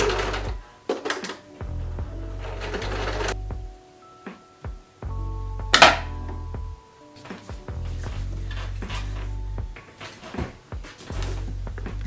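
A sewing machine stitches confetti dot fabric with interfacing, in repeated bursts of fast mechanical whirring separated by pauses, clicks and handling noises, close and fairly loud.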